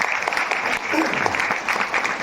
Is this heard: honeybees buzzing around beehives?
no